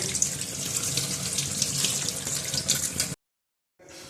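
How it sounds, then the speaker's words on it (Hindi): Carrots and oranges washed under a running kitchen tap, steady splashing water close by for about three seconds, then a brief silence before the flow resumes. "उससे पहले हम धो लेंगे इन सबको अच्छी तरह से, गाजरों को भी और ऑरेंजेस को भी।"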